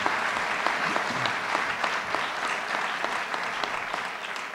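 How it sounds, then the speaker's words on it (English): Sustained audience applause at a screening event, dense steady clapping from a crowd filling the whole stretch with no pauses. "Let's give her a round of applause, please."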